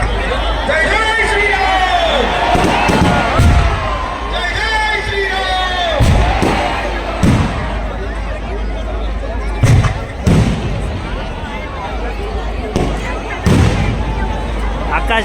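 Fireworks burst during a Ram Navami procession in Una town, Saurashtra: sharp, booming cracks come at irregular intervals, roughly six over fifteen seconds, over a constant roar of crowd babble and chanting.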